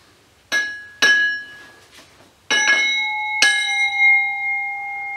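A brass parking-lot light ring struck like a bell several times, each hit a bright metallic clang with long ringing overtones that overlap and sustain.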